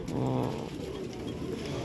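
A pigeon held in the hand gives a soft, low, throaty coo, close and fairly quiet, lasting under two seconds.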